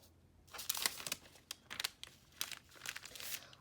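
Parchment paper crinkles and rustles in quick bursts as it is laid over printable heat transfer vinyl, several sharp crackles spread across a few seconds, close and quiet, with no talk.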